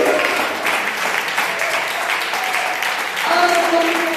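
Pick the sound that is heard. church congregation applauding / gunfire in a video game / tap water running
church congregation applauding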